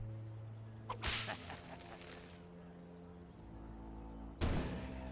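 Arrows fly in the video game Dead in Vinland, two sharp whipping releases about three seconds apart over a steady game background hum, with no talking.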